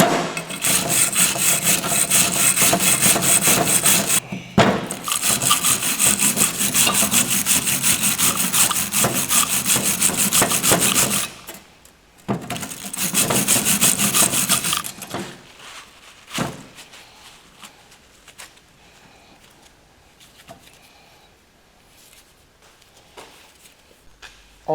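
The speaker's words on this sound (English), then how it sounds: "wire brush" A wire brush scrubs hard and steadily at a brake caliper slide pin on a Subaru Legacy, a loud rasping back-and-forth that pauses briefly, resumes, then fades to lighter scraping.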